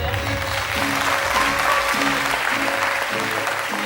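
An audience claps steadily and fairly loudly at a gathering honouring recommended SSB candidates; the dense applause holds evenly throughout, with a faint tonal hum underneath.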